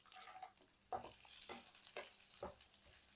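Chana dal frying with whole spices and bay leaf in a pan while being stirred, giving a soft steady sizzle broken by a few scraping stir strokes, fairly quiet and close.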